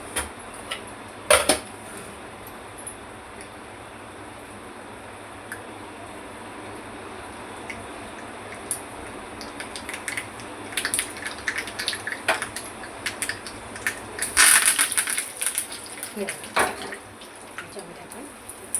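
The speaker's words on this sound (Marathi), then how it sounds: "हे तडतडून घेऊ द्या." Curry leaves, urad dal and mustard seeds being tempered in hot oil in a home kitchen: faint sizzling with scattered sharp crackles and pops that grow busier toward the end, plus an occasional clink of utensils.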